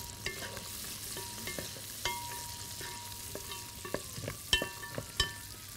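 A spoon stirs food in a cooking pot while preparing mint rice, making quiet, irregular scraping and tapping strokes over a low background sizzle, with no talking.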